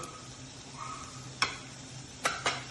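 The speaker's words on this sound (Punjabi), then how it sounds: "ਲਗਾਤਾਰ ਹਿਲਾਉਂਦੇ ਹੋਏ ਪਿਆਜ਼ ਨੂੰ ਭੁੰਨ ਲੈਣੇ ਆ" Onions, tomato and green chili frying in a pan for potato chaat, a soft steady sizzle broken by three sharp utensil knocks against the pan near the end.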